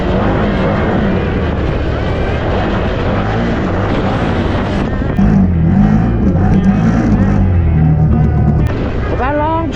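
A 2025 Can-Am Outlander XTP ATV with long-travel suspension rides over bumpy ground, its engine droning steadily and loudly close by, with a slight rise in rumble partway through and a voice faintly present.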